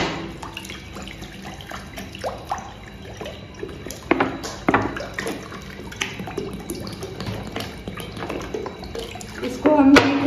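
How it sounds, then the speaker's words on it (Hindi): Water poured into a kadhai (wok) in a home kitchen, a steady splashing stream with scattered clinks of metal, close up and fairly busy. "अब इसमें डालेंगे पानी"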